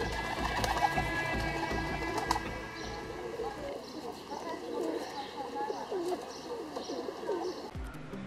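Domestic pigeons coo in soft, repeated phrases amid steady background bird chatter, with a voice talking over them throughout.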